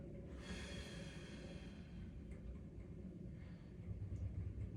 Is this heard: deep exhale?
yes